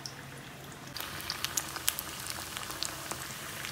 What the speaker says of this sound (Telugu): మన క్యాలీఫ్లవర్ పకోడీలు బాగా ఫ్రై అవుతున్నాయి.